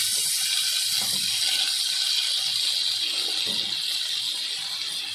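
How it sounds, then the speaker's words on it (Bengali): Water poured from a bowl into a pan of well-fried spices for a pabda fish curry, a steady broad splashing rush that runs continuously for several seconds at close range, with no talk over it. "এবারে জল দিয়ে দেবো।"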